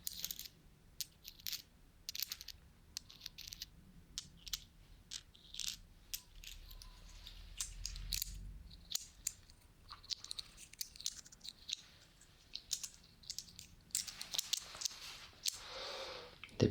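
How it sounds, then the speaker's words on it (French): Two metal coins handled close up in a quiet room, producing scattered small clinks, taps and scraping metallic rattles that come in irregular clusters with soft pauses between them. "En effet, ce sont 2 pièces de monnaie"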